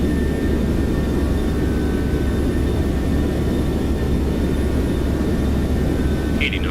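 Boeing 737-600 jet engines run at takeoff thrust in the X-Plane flight simulator, a loud, steady, deep roar that holds unchanged throughout.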